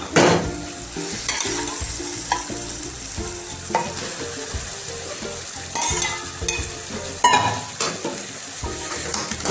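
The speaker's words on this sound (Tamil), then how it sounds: "இப்போ சிக்கனை போட்டுக்கலாம்" Chicken pieces are stirred into softened onion and tomato frying in a pot for chicken kuzhambu: a constant sizzle broken by repeated scraping and clinking spoon strokes at an uneven rhythm, close and fairly loud.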